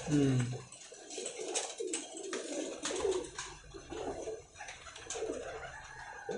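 Pakistani pigeons cooing in soft repeated throaty rumbles at moderate distance, with faint background noise and little talk.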